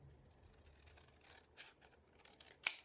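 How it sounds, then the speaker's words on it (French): Scissors cut paper for a craft kit: a run of faint, soft snips and scraping is followed by one sharp, louder cut near the end. "Vous prenez vos ciseaux et vous coupez à la même taille que l'autre."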